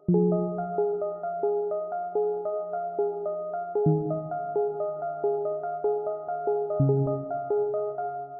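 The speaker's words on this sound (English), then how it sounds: "it's this really ambient synth / plug" An ambient future house synth pluck preset plays a repeating plucked melody over held low bass notes, shifting chords twice, loud and clean with no voices.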